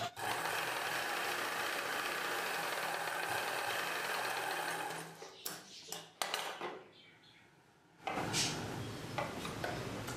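Electric sewing machine running steadily while stitching a cross-cut blouse, a loud continuous mechanical whir for about five seconds, then stopping and starting in short bursts with a brief pause before running again.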